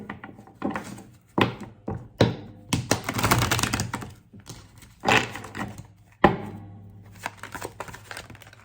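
Playing cards riffled and tapped in several quick bursts, close and crisp, with sharp thuds as the deck is squared between shuffles.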